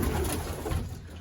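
Racing pigeons coo steadily inside a loft, a soft, continuous murmur of several birds close by with no talking over it.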